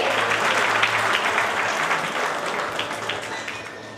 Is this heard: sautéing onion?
no